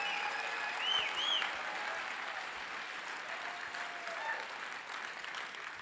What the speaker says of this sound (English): Everyone, give Charlie a round of applause, because this is no small undertaking.